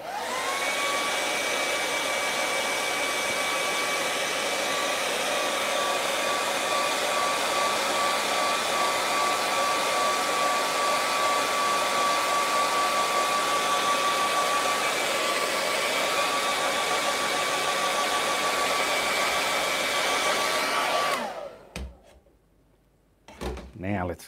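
A hair dryer blows steadily over wet acrylic paint on a snow-mountain canvas, a loud continuous whir with a faint whine that runs for about twenty seconds, then cuts off, followed by a few small knocks.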